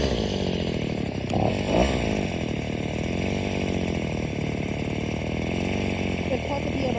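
A brand-new gas string trimmer idles continuously with a buzzing, rattly small two-stroke engine note, steady and close, with someone talking over it.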